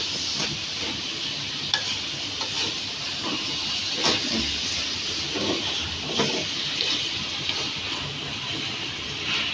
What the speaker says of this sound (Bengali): এখন নাড়তে হবে অনবরত।